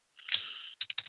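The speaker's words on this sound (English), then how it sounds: "But I'm typing." Keys clack on a computer keyboard at close range, with a short run of taps followed by several quick separate keystrokes, quiet and alone.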